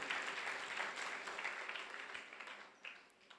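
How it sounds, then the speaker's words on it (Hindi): Audience applause at a Jain religious discourse on the Bhaktamar Stotra, a steady wash of clapping from a gathered crowd that gradually fades toward the end, with no talking over it. "कम से कम उनके लिए एक बार ताली तो बजाई दो"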